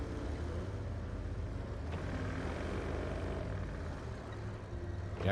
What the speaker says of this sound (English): You actually heard the engine.